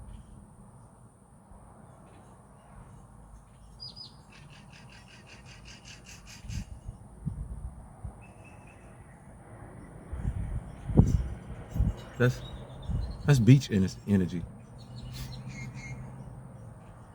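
Birds call and chirp intermittently in a quiet neighborhood near the beach, including caw-like calls, faint and moderately distant, with a person briefly speaking and some low background rumble.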